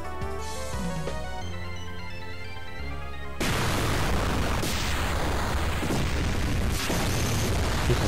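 Soft tonal notes give way to a sudden loud explosion in Final Fantasy VIII that rolls on as a sustained rumbling roar.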